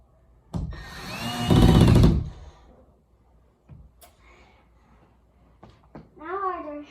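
A power drill whirs in one loud burst of about a second and a half on closet door hardware, with someone talking and short clicks and knocks before and after.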